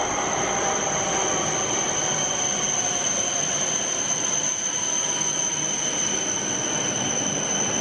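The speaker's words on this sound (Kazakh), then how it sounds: "Бұл метро." A metro train runs past in a loud, steady rumble with a constant high-pitched whine, continuous and close throughout, with no voices.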